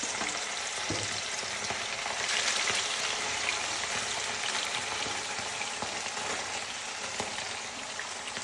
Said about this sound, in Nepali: अब हामीले मासु थोरै फ्राई गर्छौँ